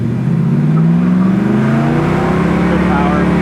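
A 1968 Chevrolet Camaro's engine idling, a loud, steady, deep rumble with a lumpy throb, close by and continuous, with people talking over it.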